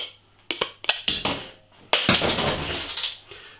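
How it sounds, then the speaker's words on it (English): A bottle of Box Steam Brewery DeRail Ale IPA clinks against a glass in several short, bright taps, then beer pours into the glass with a sustained splashing gush, all close and free of speech. "Let's get the beer out into a glass and see what we get."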